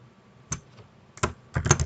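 Three short bursts of computer keyboard typing, close and crisp, separated by brief pauses in a quiet room.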